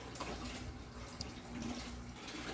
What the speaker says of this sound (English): Hasn't really stopped dripping yet